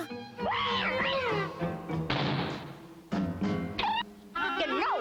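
Cartoon cat meows several times in the Smurfs, drawn-out wavering cries with short pauses between them, close and clear, and a thump or two around them.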